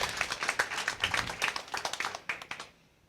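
A small audience at a school spelling championship claps for a contestant, the separate hand claps quick and fairly close, thinning out and stopping near the end.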